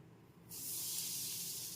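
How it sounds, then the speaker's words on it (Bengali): Semolina drops into a hot pan for a mango mohanbhog. After a brief quiet moment, a bright, even frying hiss starts suddenly and holds steady and close. "এবার আমি এর মধ্যে দিয়ে দিচ্ছি সুজি"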